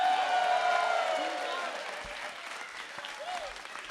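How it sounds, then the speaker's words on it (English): An audience at a zoo improv event applauds, a dense wash of clapping that is loud at first and then slowly thins out, with a few scattered voices mixed in. "Can you give a round of applause for people listening?"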